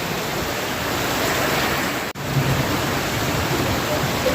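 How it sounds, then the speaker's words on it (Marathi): Heavy monsoon rain pours steadily outdoors as a dense, even hiss with no letup, broken only by a split-second gap midway. "तर आमच्या इथे असा मस्त भारी पाऊस पडू राहिला, पाहू शकता तुम्ही."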